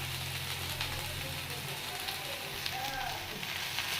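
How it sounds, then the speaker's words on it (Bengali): Leafy greens fry in a pan with a steady, close sizzle and faint spattering crackles that continue evenly for several seconds. "অনেকটাই ভাজা ভাজা হয়ে এসছে,"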